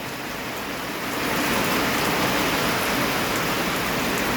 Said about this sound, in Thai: ฝนตกจักๆโจกๆเลย